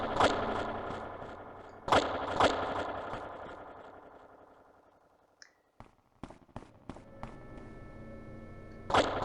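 Gunfire in the video game Half-Life: sharp, loud shots ring out as isolated reports, followed by a lull and then a cluster of quicker, quieter cracks before a final loud shot.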